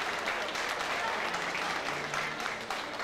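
Audience applause for the queen's parents at a Portuguese-community milk festival in Pawtucket in 2003, steady dense clapping from a crowd throughout, loud and continuous.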